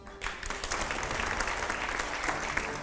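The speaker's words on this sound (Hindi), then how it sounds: "जोरदार तालियां जरा" A studio audience at a televised political interview applauds steadily, a dense wash of clapping that starts sharply and holds throughout without talk.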